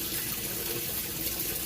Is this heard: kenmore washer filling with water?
yes